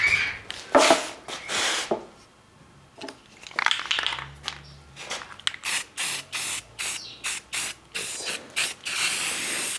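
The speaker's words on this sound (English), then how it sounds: "So metal primer. Let's shake this can out." An aerosol can sprays metal primer in repeated hissing bursts, loud and close, some long and some short, with a pause and a brief can rattle partway through.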